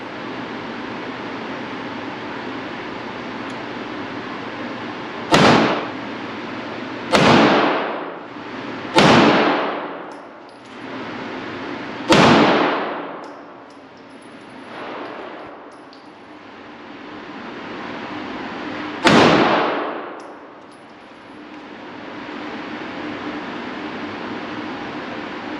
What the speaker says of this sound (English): We're going to have her shoot at that.